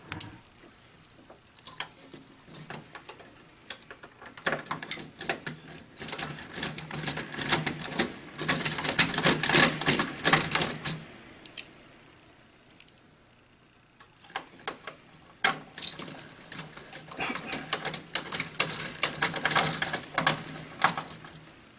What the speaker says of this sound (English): We're going to take our 2 mounting screws and get them started.